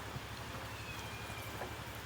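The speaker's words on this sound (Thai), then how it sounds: "บรรยากาศ บ้านๆครับฝนตกครับ" Light rain falls outdoors at a rural Thai home in the evening, a soft, steady hiss with faint patter that runs unbroken throughout, with no voices.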